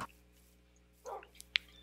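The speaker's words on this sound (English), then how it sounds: "Alright, dogs. I haven't had dogs in so long in this game." Dogs in Minecraft give a few faint, short yips and a brief whimper over a quiet background, ending in one sharper bark.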